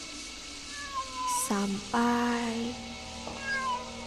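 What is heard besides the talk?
cat meowing, story sound effect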